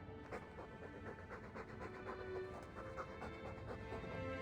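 A dog pants quietly in Dragon Age 2, rapid rhythmic breaths under faint game ambience and music.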